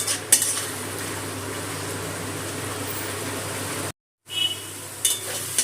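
Ginger, garlic and green chilli paste frying and being stirred in a pan for katla kalia, a steady close sizzle with scraping spoon strokes, broken by a brief silence near the end.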